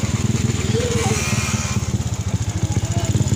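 A Honda XRM125 motorcycle engine runs after an overhaul, with a steady rapid low putter throughout and a faint voice briefly over it.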